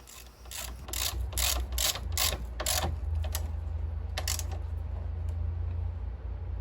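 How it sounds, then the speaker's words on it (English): A ratchet tightens a bolt on a Toro Timemaster mower during a transmission replacement, giving a close run of quick, sharp pawl clicks, then a pause and a few more clicks over a steady low hum. "be sure to tighten up that bolt as well"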